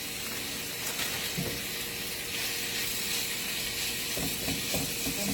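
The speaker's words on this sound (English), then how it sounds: "I'm going to put the steak over in this hot skillet" Steak sears in a hot cast iron skillet with a little olive oil, giving a loud, continuous close sizzle and hiss with a few faint knocks, and no talking.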